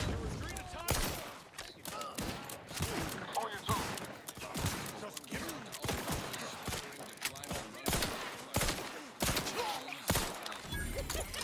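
Rapid bursts of gunfire in The Outer Worlds 2, a dense, ongoing run of sharp loud shots with thuds and mechanical clatter, with game voices talking in the mix.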